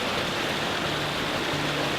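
A powerful waterfall roars as a steady, dense wash of falling water, loud and constant from start to finish with no voices over it.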